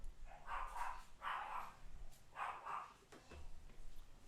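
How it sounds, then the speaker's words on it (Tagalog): Dogs outside, mixed-breed aspins, bark sharply while fighting: four or five loud barks in two quick pairs, with a short yip and a faint scuffle between them. No one speaks. "Mga aso ko nag-aaway."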